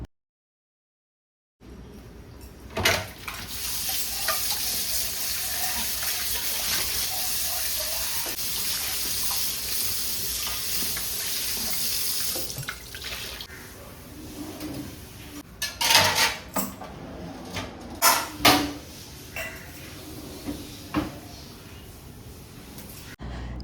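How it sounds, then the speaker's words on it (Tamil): A kitchen tap runs steadily while dishes are washed in a home kitchen, a continuous rushing stream broken near the end by louder clinks and knocks of utensils and vessels, with no talk. "வெசல் வாஷ் ஃபுல்லாக பண்ணிகிட்டே இருக்கிறேன்"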